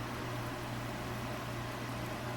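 Air conditioning hums steadily in a warm kitchen where instant fire noodles are being cooked, a constant low drone with broad airy noise, no talk.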